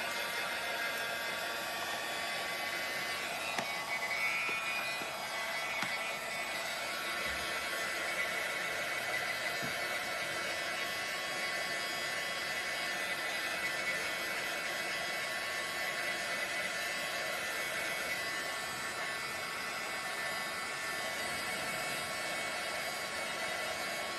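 A hair dryer blows steadily on paint splatters decorating a witch hat cauldron shelf sitter, a constant close broadband whoosh running unbroken the whole time with no talking.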